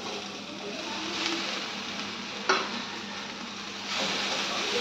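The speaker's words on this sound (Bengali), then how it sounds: "ভেন্ডিটা দিয়ে খুব ভালোভাবে ওপর নিচ করে মিশিয়ে দেবো" Pre-fried okra is stirred in a hot pan, producing a continuous close sizzle with soft scraping from turning it over, a sharp clack of the utensil midway and a brief swell of frying near the end.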